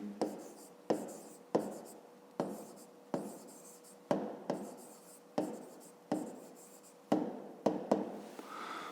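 Pen strokes scratch across paper as numbers are written by hand for a fifth-grade maths exercise. About a dozen crisp, regular strokes sound close up, each with a sharp start and quick fade, and no voices.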